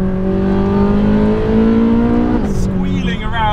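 Ferrari 458 Speciale or McLaren 720s Spider on a mountain pass drive, engine roaring loud and close with strong rising harmonics, then a sharp downshift as revs drop and blip, followed by rising engine note.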